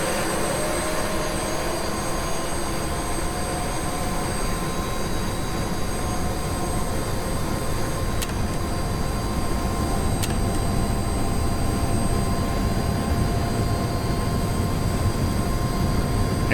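Twin turboshaft engines of a UH-60L helicopter spinning up in the DCS flight simulator, a steady loud turbine roar with rising whine tones, continuous throughout with no talk.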